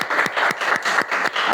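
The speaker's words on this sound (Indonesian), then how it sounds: "Berikan tepuk tangan untuk kelompok 1" Classroom applause for a student group, rhythmic unison clapping in a brisk repeated beat of claps, close and fairly loud.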